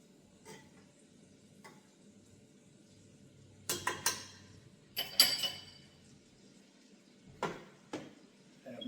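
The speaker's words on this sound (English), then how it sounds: "Stir the noodles up." Metal utensil scraping and clinking against a pan while stirring noodles with ground beef, with scattered sharp clatters amid quiet gaps and a faint sizzle.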